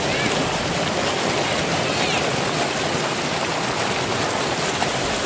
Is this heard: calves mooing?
no